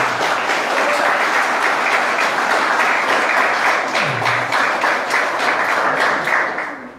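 A church congregation claps in sustained applause, a dense steady wash of many hands held at an even level for about seven seconds before tapering slightly at the end.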